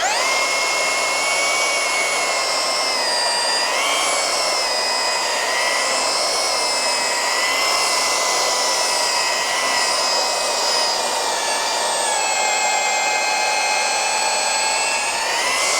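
Craftsman V20 brushless belt sander running under load, a steady high-pitched motor whine that dips and recovers as pressure is applied; close and continuous, no talk.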